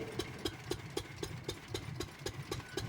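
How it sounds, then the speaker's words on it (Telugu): A large engine driving a village poha-making machine that flattens paddy, running steadily with a regular thumping beat roughly four times a second over a low mechanical rumble, close and continuous. "ఈ అటుకుల మిషన్ అయితే ఇంజిన్ ద్వారా తిరుగుతుంది చూడండి"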